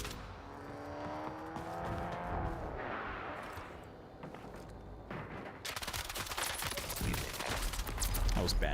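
Gunfire in Black Ops 7 Warzone sounds as bursts of shots over game ambience, growing louder and denser toward the end, with a voice talking in the background.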